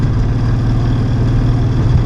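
A Mazda RX-7 fitted with a 2JZ engine, heard as a loud, steady low engine drone, close and continuous without clear revving changes.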